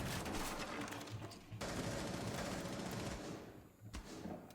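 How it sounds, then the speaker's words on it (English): Gunfire from a Jackal secondary weapon in Rainbow Six Siege: a dense, loud stream of rapid shots in sustained bursts with a short break partway through. "I don't know if you just picked up on that audio cue of the weapon, but that was a Jackal secondary, or a Maru."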